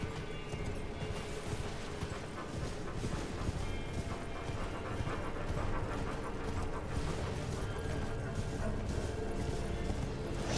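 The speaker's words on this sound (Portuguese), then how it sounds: "Agora o cavalo miserável pulou." Horse hooves galloping in the video game Elden Ring, fast and continuous hoofbeats buried in dense game noise and mechanical clatter, steady at a moderate level.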